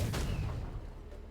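A cannon fires in the Rogue Legacy 2 video game, a single deep boom at the start that decays quickly over a low rumble, with no talk.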